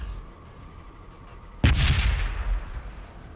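A single heavy blast from gunfire or artillery in the Warhammer 40,000 Battlesector video game strikes loud and close after a quiet rumbling stretch, then trails off into a rough, echoing decay.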